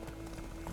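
A horse's hooves clip-clop in The Witcher video game, a brief run of muffled, even hoofbeats under a low game soundscape.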